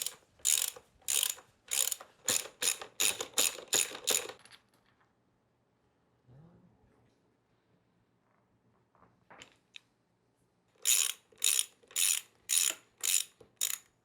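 Ratchet clicks in two rapid bursts as bolts are worked loose on the handlebar mounts of a 2026 Talaria Komodo electric motorcycle, loud and close, with a quiet stretch of faint handling noise between them.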